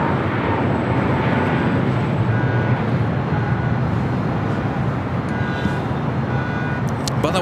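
British Airways airliner rolling down runway 7 left at LAX, a steady broad jet-engine roar heard from a distance, with faint road traffic and brief tones near the end.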